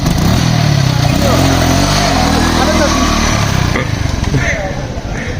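A motorbike engine runs loud and rough, rising and falling in pitch as it revs and pulls away, with people talking over it throughout.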